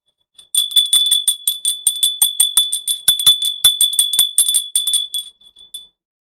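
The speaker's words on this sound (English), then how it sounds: "let me ring the bell" A small bell is rung rapidly and repeatedly on a livestream, a bright, loud metallic trill of quick strikes lasting about five seconds before stopping, with no talking over it.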